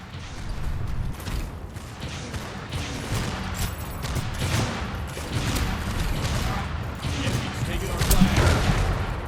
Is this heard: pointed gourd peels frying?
no